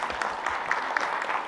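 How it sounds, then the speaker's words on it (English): Quiet audience applause at a finance keynote launch event, a thin patter of clapping heard from a distance without any voices. "if you could give her a round of applause"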